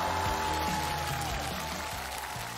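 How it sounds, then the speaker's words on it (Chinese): Studio audience applause on a Chinese TV variety show, a steady dense clapping that fills the whole stretch at even loudness, with music tones faintly underneath. "我们掌声给各位可爱的年轻人"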